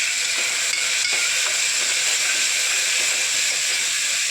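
Onion and tomato fry in a pan for an Indian avarekalu and vegetable palya, producing a constant, close, even hiss of sizzling oil with no pauses.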